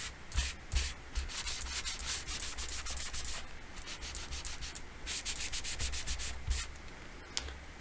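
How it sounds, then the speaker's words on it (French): A sponge rubbed up and down over paper to lay down ink in stripes for a masking technique, giving a steady close scrubbing swish in repeated strokes with brief pauses, no voices. "Vous voyez, je frotte pour déposer l'encre."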